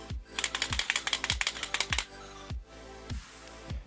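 A small Gashapon Kamen Rider Build Full Bottle toy shaken hard, small pieces inside clattering in a rapid, shallower-sounding burst, then a few slower, sparser knocks as the shaking stops.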